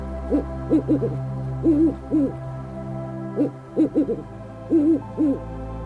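Owl hooting in the Yukon wilderness, repeated low hoots in short clusters of two or three, fairly close and clear over a steady low background hum, no voices.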